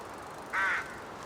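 A bird cry in the cycling video game Lonely Mountains Downhill, one short, fairly loud caw-like call standing alone over a quiet background.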